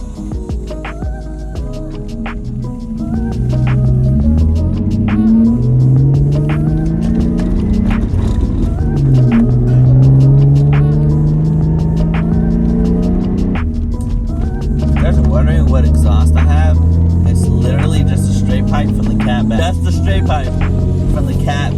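A Lexus IS300 with front coilovers cruising on back roads, a steady low engine drone and road rumble from inside the cabin, with someone talking over it and shifts in engine pitch as it accelerates.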